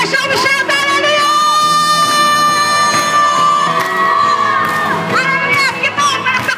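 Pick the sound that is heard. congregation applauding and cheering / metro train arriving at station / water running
congregation applauding and cheering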